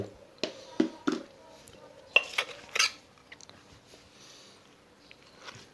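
Northern Thai papaya salad pounded in a mortar with crab paste: a few sharp, close knocks and clatters of pestle and utensils, irregular and spaced out, then quieter rustling.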